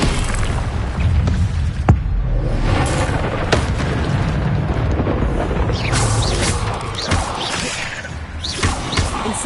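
An Incendio fire spell erupts in combat in the Hogwarts Legacy video game, with loud booming blasts, crackling bursts and crashing impacts over a dense, continuous roar of battle.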